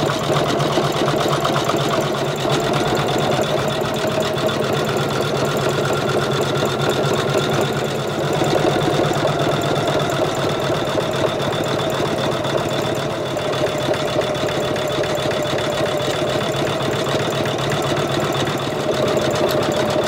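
An embroidery sewing machine stitches a satin-stitch appliqué cross in the hoop, running a steady, loud, continuous rapid needle whir with an even mechanical rhythm throughout, alone with no talking.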